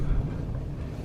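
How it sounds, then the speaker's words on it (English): Strong wind roaring and buffeting outdoors, a continuous low rumble with gusty texture, close and loud with no voices. "Super windy out here."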